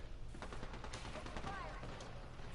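Sniper gunshots crack in an online shooter game, a few sharp reports in quick succession amid a busy, noisy mix of game effects.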